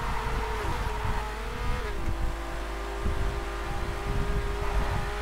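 Race cars speed along in Horizon Chase Turbo, a steady droning engine tone stepping down in pitch at a couple of gear shifts over a continuous roar, with no voices.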